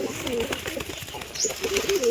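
Pigeons cooing nearby in a loft, soft repeated throaty coos rising and falling over a low background hum, with a faint chirp or two.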